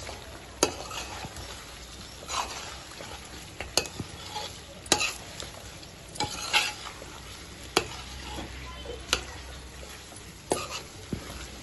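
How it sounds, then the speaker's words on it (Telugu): Chicken curry with spices and tomato is stirred in a pan over a soft sizzle, a spoon scraping and tapping the metal in sharp, irregular clicks close by, with no talking. "ఇవన్నీ వేసిన తర్వాత ఒకసారి తిప్పుకొని"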